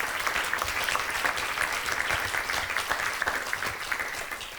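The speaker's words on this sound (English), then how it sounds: "So a big round of applause to the host," Audience at a keynote session of a large conference applauds the host, steady dense clapping sustained evenly throughout at moderate level.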